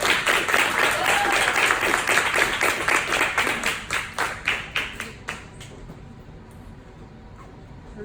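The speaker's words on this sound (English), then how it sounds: "let's give her a huge round of applause" An audience applauds a storyteller as she comes up to speak, giving several seconds of lively clapping that thins into a few distinct claps and then dies away into quiet.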